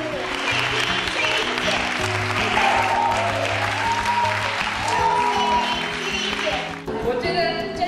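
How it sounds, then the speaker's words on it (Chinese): Sustained applause at a church gathering welcoming long-serving staff onto the stage, steady and dense throughout with music and voices mixed in beneath it. "请你们呢不吝掌声哈"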